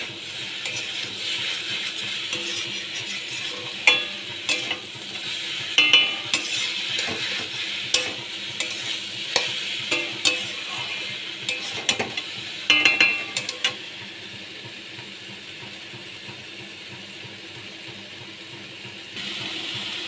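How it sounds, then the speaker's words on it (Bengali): Cabbage sizzling in a pan while being stirred, a continuous soft hiss broken by repeated scraping clicks and knocks of a spoon against the pan, close by, with the stirring stopping toward the end. "আমি আবারও ভালো করে একটু নাড়াচাড়া করে নিচ্ছি"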